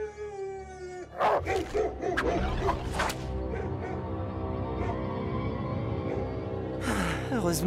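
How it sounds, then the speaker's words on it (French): Hunting dogs in the animated series Slugterra bark and howl in a loud, chaotic burst that starts about a second in. It settles into sustained noisy cartoon action with layered effects, and a sharp cry comes near the end. "Heureusement que les chiens ne grimpent pas aux arbres."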